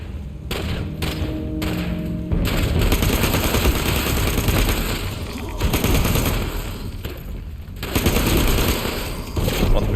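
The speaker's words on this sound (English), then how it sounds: "Who's shooting out here?" Rapid bursts of gunfire in Fallout 76, loud overlapping shots and thumping impacts filling the scene with barely any pause, with a voice speaking briefly over the shooting.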